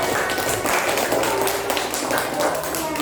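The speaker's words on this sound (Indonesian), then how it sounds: "Aplaus dong untuk Jilan." A classroom of students gives a student dense, continuous applause, many hands clapping close and fairly loud throughout without a break.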